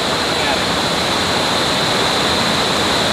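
Mag Aso Falls pours as a dense, steady roar of falling water, loud and unbroken with no other sounds standing out.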